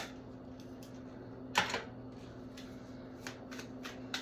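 Deck of tarot cards being shuffled and handled, a sharp riffle burst followed by several soft snapping flicks, close and fairly quiet over a low steady hum.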